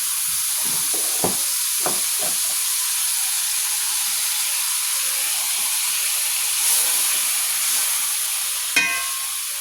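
Butter sizzles in a hot pan while a stacked sandwich is cooked, a soft, steady hiss with a few light clicks and taps from utensils.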